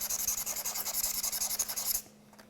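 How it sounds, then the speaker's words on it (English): Sandpaper scratching the rose gold coated back of an iPhone SE, a close, rhythmic rasping in quick repeated strokes that stops abruptly. "Sandpaper definitely will start stripping off the rose painting"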